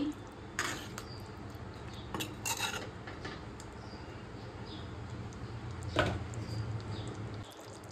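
A spoon stirs chana masala with a little ghee in a pot, soft scraping and a few clinks of metal against the pan, faint and close with a steady background hum.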